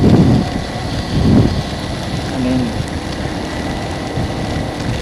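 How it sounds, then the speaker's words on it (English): Heavy rain downpour in Guilin roars steadily, a dense wash of noise with low rumbling beneath; a voice speaks briefly over it. "the downpour was just insane"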